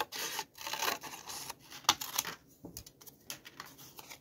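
Scissors cutting down a paper offcut for a junk journal, close and quiet, with a series of short snipping and rustling strokes and pauses between them.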